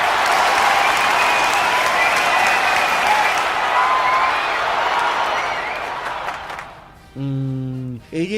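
Loud, sustained audience applause with cheering fills the room, fading out near the end before a voice speaks briefly over the last moments.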